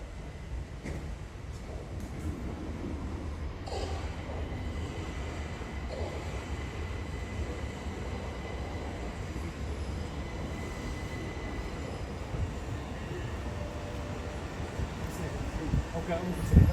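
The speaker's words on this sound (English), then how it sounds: "let's wait for these two trains to come in and then we can climb aboard an Electrostar." Two Southern Class 377 Electrostar trains arrive at Hove station, their rumble and rail noise rising steadily over about seventeen seconds amid platform ambience.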